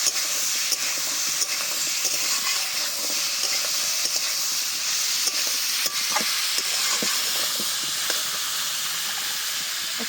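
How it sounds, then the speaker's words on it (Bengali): Young green jackfruit frying in hot oil with onions gives a loud, continuous sizzling hiss close by, broken by occasional scrapes and taps of stirring. "এঁচড় দিয়ে খুব ভালো করে আগে ভেজে নেব"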